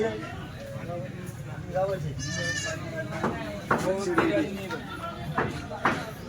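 Kathiawadi goats bleat repeatedly at a busy Chalisgaon livestock market where a sale is under way, several wavering calls rising over a crowded murmur of voices and shuffling.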